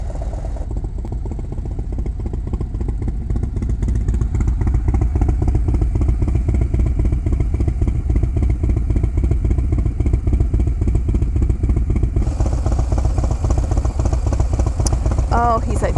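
Rented motorcycle engine running continuously up close, a steady rumbling idle with clattering texture and a slight rise partway through, with voices talking over it.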